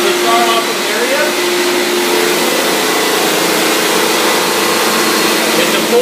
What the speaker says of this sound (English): It's a full vac machine.